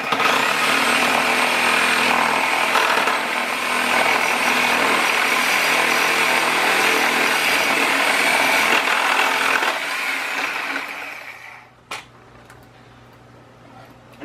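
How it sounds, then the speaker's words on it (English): A Sawzall reciprocating saw cuts through pallet nails between a 2x4 and a 1x4, a loud rasping buzz that runs steadily for about ten seconds, then stops abruptly, followed by a sharp clack. "put your Sawzall blade in between the 2x4 and the 1x4 in this case,"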